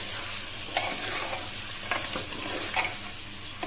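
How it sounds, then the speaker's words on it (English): Lamb pieces with green chilies brown over a high flame for a korma, a dense hissing sizzle with periodic scraping stirs from a spoon against the pot, no speech. "Now brown the lamb nicely. This will take around 10 to 15 minutes on a high flame."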